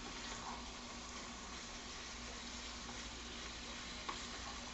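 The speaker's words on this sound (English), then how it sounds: "We're going to mix up this pork here in the pan." Pork sizzles and is stirred in a pan, giving a constant soft crackling fry with faint scraping of the utensil, low in level and steady throughout with no talk.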